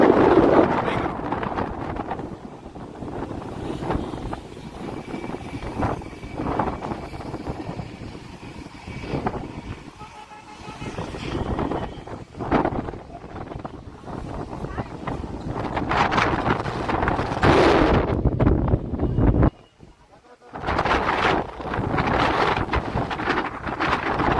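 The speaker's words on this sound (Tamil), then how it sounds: "லைட் ஹவுஸில் வந்து கடுமையான காற்று." Strong gusting wind buffets the microphone at the Kanyakumari lighthouse, a constant roaring rumble with surging peaks and one brief lull, while people talk throughout.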